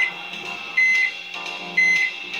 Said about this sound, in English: They should start selling beeping microwaves as an option.